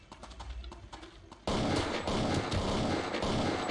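Gunfire in the video game Counter-Strike: Condition Zero: distant muffled shots give way to a sudden loud, sustained burst of dense firing and rumble, with no talk.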